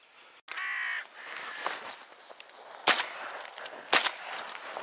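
Crows caw harshly over a spring river while drakes are hunted with decoy ducks, several calls in a row, with two sharp gunshot-like cracks among them.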